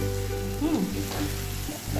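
Pointed gourd (potol) pieces sizzle and fry steadily in hot oil, a continuous close crackling hiss with faint stirring scrapes throughout.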